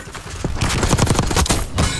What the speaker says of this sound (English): I'll just shoot him in the back.